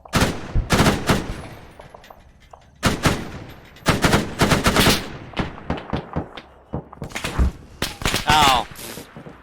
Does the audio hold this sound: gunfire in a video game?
yes